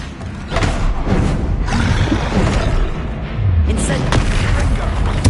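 Bombarda and Confringo spell explosions in the wizarding video game Hogwarts Legacy boom and rumble in heavy, continuous blasts, loud and near, with a voice shouting over them.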